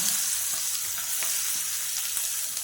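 Onion goes into hot oil seasoned with cumin powder and asafoetida while a vegetable dish is being made, and it sizzles and crackles steadily and loudly up close with light stirring and no talk.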